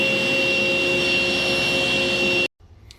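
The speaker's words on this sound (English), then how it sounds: "I'm basically just cutting out a little bit wider than 1/4 inch strips" A power saw rips figured maple into narrow strips, a loud steady high whine with a sharp tonal edge, then cuts off abruptly near the end, leaving a brief quiet rustle.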